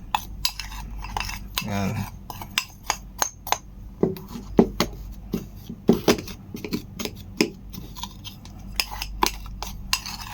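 A spoon scrapes and clinks steadily against a container while a baking soda mixture is stirred, producing sharp irregular metallic taps up close, with a brief voice heard at one point.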